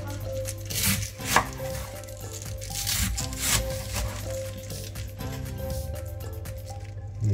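Knife chopping cabbage into small cubes on a cutting board for gyoza, a steady run of close, crisp cuts in an indoor kitchen, with a faint background hum.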